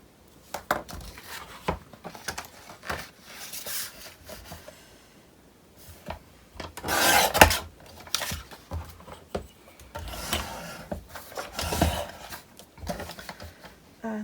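Paper being cut to size for a portrait-format fantasy page, heard as a series of close, irregular scissor-like snips and rustling bursts, with a brief louder sweep midway and quieter handling noise between cuts; no talking.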